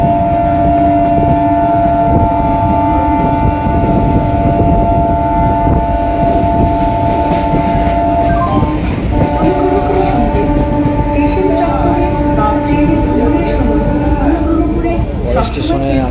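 A train rumbles steadily along the rails between Bargachhia and Patihal stations with continuous rolling noise and a sustained tonal hum, loud and close throughout.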